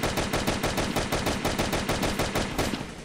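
Mauser M1932 machine pistol firing in a Truy Kích shooter video game, a rapid continuous burst of loud, evenly spaced shots that lasts about three seconds and tails off at the end.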